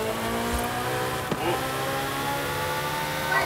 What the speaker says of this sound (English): We can do launch control in this, so we're gonna hold it at 2000 RPM.